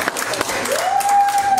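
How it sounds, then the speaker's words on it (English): Church congregation clapping during a Sunday service, a dense spread of hand claps with voices mixed in and a sustained sung or called tone rising through the latter half. "Let's give the Lord another big hand clap"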